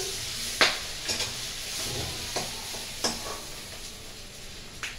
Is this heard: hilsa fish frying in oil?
yes